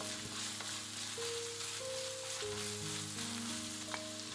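Lamb and doubanjiang bean paste stir-fried in a pan, a soft steady sizzle with background tones, moderately quiet and continuous for a few seconds with no talking.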